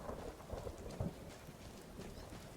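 Heavy rain falls in the video game Skyrim, a soft steady hiss of rain with faint low rumbles, heard at low level with no talk.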